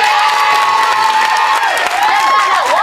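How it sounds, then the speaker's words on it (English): A Big Brother UK 2004 eviction-night studio crowd cheers and claps loudly, a steady roar of applause with shouts and whoops running throughout. "let's give them a big round of applause because they're full 10 weeks."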